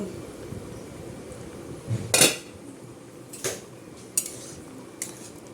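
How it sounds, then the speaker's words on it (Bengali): A pot lid is lifted off boiling papaya and soybean vegetables for a baby's meal, giving one sharp metallic clatter followed by a few lighter clinks over a quiet, faintly bubbling background. "ঢাকনা খুলে দেখে নেব"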